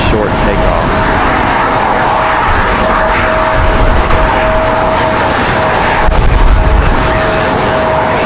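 A JetBlue airliner takes off on a windy day at Raleigh Durham airport, its jet engines producing a loud, steady, continuous roar throughout, with gusty wind noise underneath.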